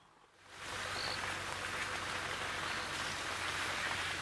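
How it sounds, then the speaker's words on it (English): Steady, dense rain pours down at Djuma Private Game Reserve, starting abruptly and then holding as a loud, even hiss with no voices. "Welcome to a wet Juma Private Game Reserve. Isn't the rain glorious?"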